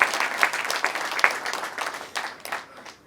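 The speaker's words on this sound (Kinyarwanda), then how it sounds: "mumpera amashyi kuri uwo mwanya mpaye. amashyi menshi cyane." An audience at a wedding gathering applauds, a burst of dense clapping that is loudest at the start and then thins out and fades over about three seconds.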